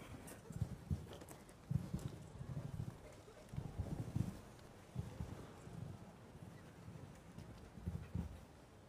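A show-jumping horse gallops across a large grass arena at Aachen, its hoofbeats a faint, steady rhythmic thudding in the distance under wind noise.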